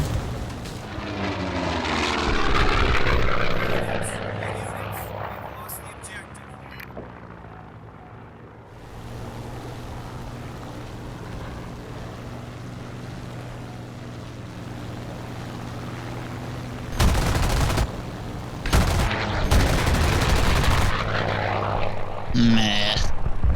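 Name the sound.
Spitfire plane engine in video game War Thunder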